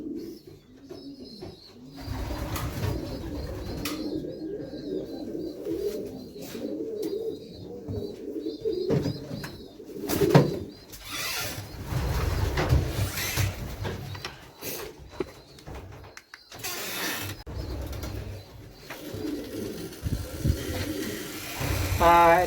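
Racing pigeons being readied in a loft near Madrid coo softly and flutter over a constant murmur, with scattered louder bumps and wing sounds and occasional faint human presence.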